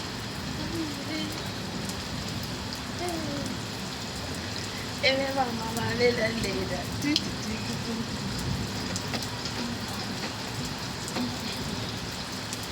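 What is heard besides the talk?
rain falling while playing outdoors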